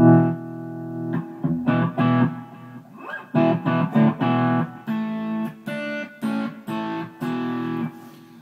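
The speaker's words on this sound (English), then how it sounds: "we're going to try some dirty tones" A Fender-style guitar circuit played through a Giggity pedal gives dirty, distorted tones: chords and lead phrases struck in bursts with short gaps, loud and alone without speech.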